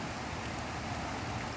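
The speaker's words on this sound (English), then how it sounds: "Here comes the rain." Steady broadband hiss of rain falling outdoors during a windstorm, an even, continuous patter with no voices, fairly quiet and constant throughout.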